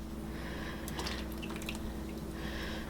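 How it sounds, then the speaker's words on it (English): Whole milk pours into a custard pie mixture, a soft liquid splashing and trickling for a moment over a steady low background hum. "There goes our whole milk."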